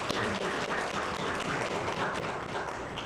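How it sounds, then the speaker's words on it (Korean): A church congregation applauds the choir after an Easter worship service, a dense, even wash of clapping filling the hall for a few seconds without a break. "하나님께 다시 한번 영광의 박수"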